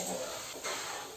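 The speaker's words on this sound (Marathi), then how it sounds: "आता आपली इथे ग्रेव्ही चांगली फ्राय झाली आहे" Spiced gravy for chicken tikka biryani fries in a pan with a soft, steady sizzle, heard briefly and alone.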